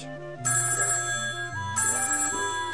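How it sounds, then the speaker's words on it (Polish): A telephone rings with an electronic ringtone, two bursts of stepped, melodic tones in quick succession, clear and close with no talk over them. "Telefon może cię obudzić."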